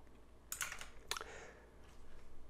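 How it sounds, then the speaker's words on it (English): Fingers typing on a computer keyboard, two short bursts of quick close clicks about half a second apart, followed by quieter scattered taps, faint and alone. "So I will type quantity"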